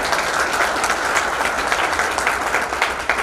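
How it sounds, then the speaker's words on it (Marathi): A seated audience claps loudly and continuously in honour of an official at a closing session, a thick, even wash of applause with no speech over it. "मी पुन्हा एकदा विनंती करेल साहेबांसाठी जोरदार टाळ्या"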